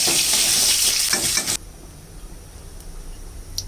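A fish head frying in hot oil until crisp, sizzling loudly and steadily for about a second and a half before the sizzle drops to a faint, low hiss.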